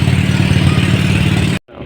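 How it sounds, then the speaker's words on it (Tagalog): A loud, close boat engine drones steadily with a rough throbbing rumble on a lake thick with water lilies, then cuts off abruptly before a quieter background returns. "Kaya malakas makina niyan."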